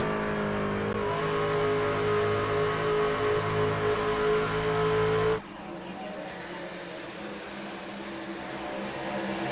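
Racing truck engines in an Indianapolis truck series race in a video game, a loud sustained high-revving drone that drops abruptly partway through to a quieter, rougher engine rumble.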